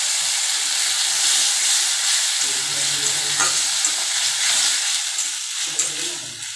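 Spices frying in hot oil in a pan for ghugni, a loud, continuous hissing sizzle with a few faint stirring scrapes, close up and without speech.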